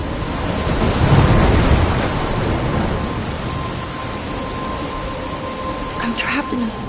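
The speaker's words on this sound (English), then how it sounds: "I'm trapped in a storm?" A storm of heavy, steady rain hisses loudly and close, with a deep roll of thunder swelling early on before the downpour continues alone.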